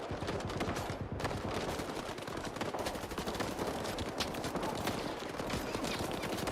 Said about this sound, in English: That is a lot of shooting.